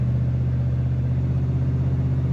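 A 1960 Chevrolet Impala Sport Coupe with an automatic transmission gives off a deep, steady engine rumble, close and constant throughout with no talking.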